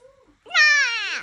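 A child imitates a cat's meow with one drawn-out, rising-then-falling call, close and fairly loud, after a moment of quiet low voice.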